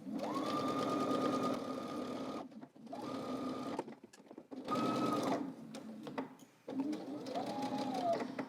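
A sewing machine stitches a coat seam in four close, steady bursts of whirring motor hum, each several seconds long and separated by brief pauses, with the motor pitch rising and falling as it starts and stops.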